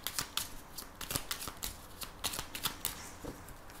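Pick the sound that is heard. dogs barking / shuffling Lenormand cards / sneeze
shuffling Lenormand cards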